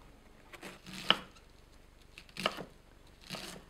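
Cabbage being chopped by hand with a knife on a board for a salad, a few scattered bursts of crisp cuts separated by pauses, near and clear with no talk.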